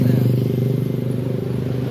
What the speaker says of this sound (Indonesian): selanjutnya melintas bus ANS